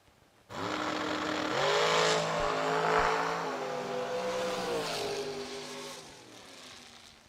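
A race car makes a solo run at World Wide Technology Raceway, its engine note loud and close and rising through the gears, then holding a steady high drone as it carries on past.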